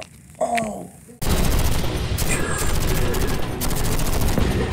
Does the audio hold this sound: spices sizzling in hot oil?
no